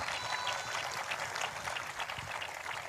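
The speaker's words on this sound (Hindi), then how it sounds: "जिनको ये बात समझ में आ चुकी है वो ताली बजाकर धन्यवाद कर रहे हैं।" Audience at a morning church service clapping in thanks, a continuous, fairly dense wash of applause with no break throughout.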